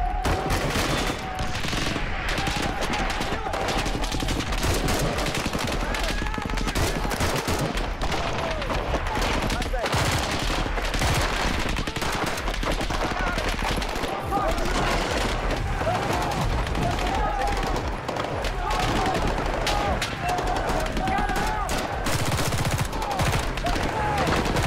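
Gunfire in Navy SEAL combat keeps up a dense, steady roar of shots through the whole stretch, loud and close, with voices mixed in among the rounds.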